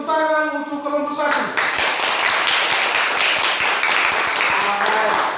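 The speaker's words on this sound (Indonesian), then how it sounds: "Tepuk tangan untuk kelompok 1." A classroom group in a teaching practice session gets applause: brisk, dense clapping from many hands that swells in and continues steadily, with a voice speaking over the start.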